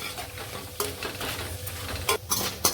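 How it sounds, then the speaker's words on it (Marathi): Cauliflower 65 tossed into a pan with browned garlic and stirred, giving a soft sizzle with several close scraping knocks of the spatula against the pan. "आता त्याच्यामध्ये आपण हे फ्लावर 65 टाकून घेऊया आणि छान असं मिक्स करून घेऊया।"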